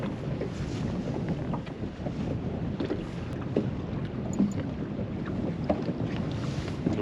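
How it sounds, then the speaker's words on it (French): A fishing boat's motor runs continuously with a low, steady rumble, joined by wind buffeting and water noise on a boat out lure fishing. "Le moteur."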